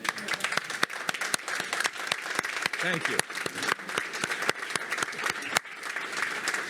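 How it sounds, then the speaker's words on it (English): Audience applause fills a spoken-word storytelling event, a dense wash of clapping with sharp individual claps, steady and moderately loud, while a voice briefly thanks the crowd over it. "this round of applause from us is for all of you"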